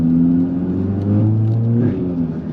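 Cupra Ateca with its GPF/OPF filter deleted and exhaust valves open, revving close and loud, a booming exhaust roar rising in pitch then easing off.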